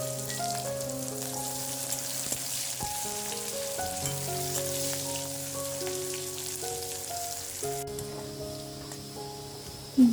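Onions fry in hot oil for an Odia fish masala, a soft steady sizzle running under background music, with a brief clatter near the end.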